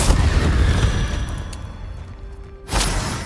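A Confringo fire-blast spell explodes in Hogwarts Legacy amid a fight with a giant spider: a rumbling, fading boom, then a sudden sharp blast near the end.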